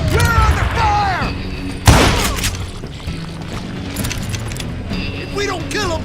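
Gunfire erupts in Call of Juarez: Gunslinger during a camp ambush near Parachute, Colorado, with a sharp close shot and scattered bangs mixed among shouting voices and game sounds.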